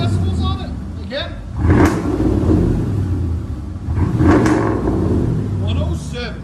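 Straight-piped V8 in an old Ford Crown Victoria LTD revving in two strong bursts over a steady deep idle rumble, with people talking nearby.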